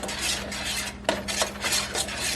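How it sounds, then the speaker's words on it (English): Spoon scraping and clinking against a pot while boiling peanut butter fudge gets stirred, several metallic strokes in an uneven rhythm, close and fairly loud with no talking. "Give it a stir."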